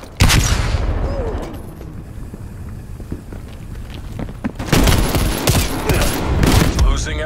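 Call of Duty: Black Ops Cold War gameplay with a flashbang blast and loud rattling bursts of gunfire, a heavy opening crack, then dense rapid volleys surging again near the end.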